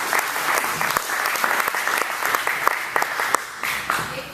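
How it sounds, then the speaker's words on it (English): A tech meetup audience on enterprise mobile app development claps after a presentation, a sustained, full round of applause from a room of people, steady and moderately loud, tapering slightly at the end. "Big round of applause for Sanjay."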